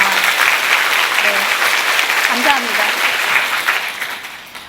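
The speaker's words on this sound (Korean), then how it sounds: "우리 약속할 수 있으면 박수 한번 칠까요?" Sustained audience applause fills a lecture hall at an EBS study-method talk, steady and dense throughout before tapering at the end, with a brief spoken thanks over it.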